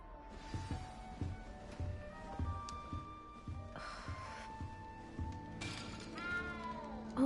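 A cat meows inside the video game Hogwarts Legacy on PS5, set in the castle, with short mews repeated over a busy game soundtrack of music and ambient effects.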